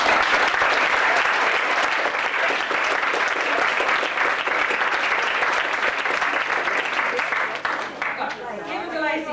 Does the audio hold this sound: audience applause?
yes